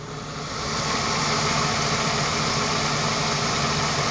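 The engine of a 1976 Dodge Crewcab idles with a steady, even rumble, close and continuous, with no voices.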